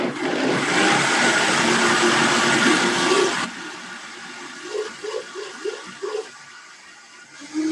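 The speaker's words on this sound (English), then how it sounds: "let's blend this up until it's like" A Vitamix blender blends raw vegan curry, roaring loud and close for a few seconds before cutting to a lower churning with rhythmic pulsing, then surging again near the end.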